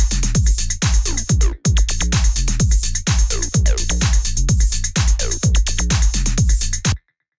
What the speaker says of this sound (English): And yeah, then we have this little snare.